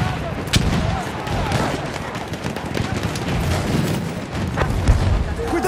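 Enemy machine gun fire in the video game Battlefield 1, dense bursts of shots and booms continuing throughout amid battlefield chaos, with voices shouting over the din.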